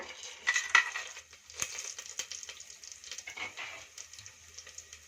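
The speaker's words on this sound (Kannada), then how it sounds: "ಈಗ ಸ್ವಲ್ಪ ಫ್ರೈ ಮಾಡ್ಕೊಳ್ಳೋಣ." Whole garam masala spices fry in a generous pool of hot oil for a fenugreek rice dish, giving a steady, fairly quiet crackling sizzle with occasional scraping and clinking of a stirring spoon.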